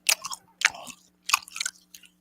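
A person with missing bottom teeth chewing food close to the mic, several wet, crunchy bursts of mastication separated by brief pauses over a steady low hum.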